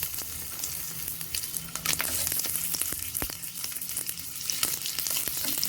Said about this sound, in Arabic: اللحمه يا جماعه بتتحمر بسمنه بلدي يا جماعه عشان تبقى طعمها حلو بتاعت الفته